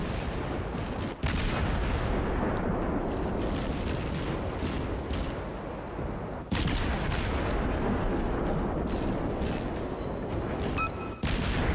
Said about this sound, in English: look at this barrage of fire going on here. Just shots flying everywhere.